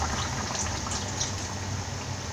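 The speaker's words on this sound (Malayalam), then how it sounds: "ഇനി ഇതിലേക്ക് എടുത്തു വെച്ചിരിക്കുന്ന 1/2 പാൽ ചേർത്ത് കൊടുക്കാം." Milk poured into a simmering Kerala-style mutton stew gives a steady, continuous liquid pouring and bubbling sound with a soft hiss. It runs alone, close and even throughout.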